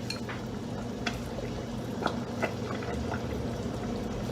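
Soup stock being poured into a pot that already holds chicken pieces with skin, a steady liquid rush and splash running throughout, close and fairly quiet, with faint clinks near the middle.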